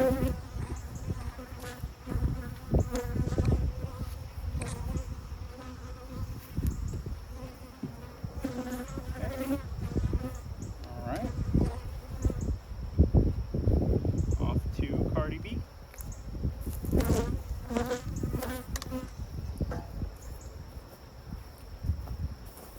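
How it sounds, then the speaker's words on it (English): Upset honey bees swarm around a hive during a mid-June inspection, a dense, close, fluctuating buzz with individual insects zipping past, while a person speaks intermittently over it. "I had all those bees kind of upset on me"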